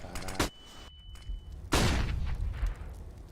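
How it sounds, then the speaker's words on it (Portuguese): A Valorant flashbang detonates as a sharp burst, followed by a second, louder explosive blast with a long ringing tail inside a tactical shooter match. "Deploying flashbang."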